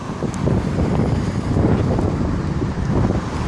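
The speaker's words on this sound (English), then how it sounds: "Oh yeah, wind's picking up." Gusty wind buffets an outdoor microphone on a town street as a cold front approaches, a loud, steady broadband rush with no talking.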